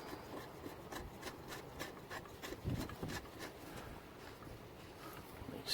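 Faint scraping and rubbing as the oil filter housing of a Mitsubishi Outlander 2.0 diesel is tightened back up by hand, a quiet, steady series of small strokes with no talk.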